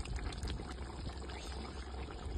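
Water poured onto a covering plate over a chicken dish cooking on a wood-fired stove outdoors on a farm, heard as a faint, continuous splashing pour without any talking.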